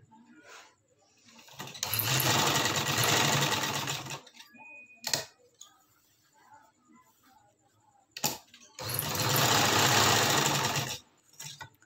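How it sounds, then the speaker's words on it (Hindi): A sewing machine stitches along the edge of a trouser belt in two loud, steady runs of about two and a half seconds each, separated by short pauses with light handling clicks. "फिर इसको बाद बिल्कुल इसी तरह से हम बेल्ट की दूसरी साइड पर सिलाई लगाएंगे"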